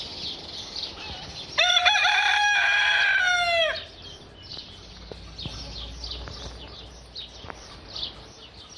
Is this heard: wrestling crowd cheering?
no